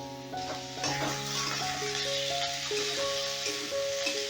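Chopped tomatoes with salt sizzle in a hot pan while being stirred, a close steady frying hiss with soft scraping, under background music with sustained tones and no talk.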